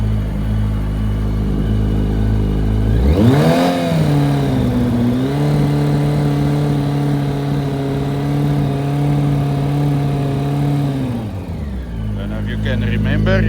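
A Yamaha R1 motorcycle engine, warmed up and being checked for a knocking sound, idles, then is revved up sharply and held at a steady high drone before dropping back to idle.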